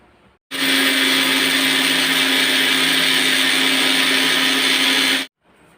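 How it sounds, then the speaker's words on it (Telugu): An electric mixer grinder whirs loudly and continuously for about five seconds as it grinds dry ginger into spice powder, starting and stopping abruptly with no talk. "మిక్సీ పట్టుకుందాం ఇప్పుడు."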